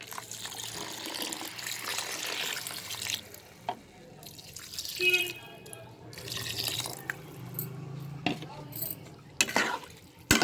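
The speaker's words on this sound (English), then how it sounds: "Now I will add appropriate water." Water pours and splashes into a pot of rice and dal for khichdi, an uneven gurgling trickle with drips and a few clinks.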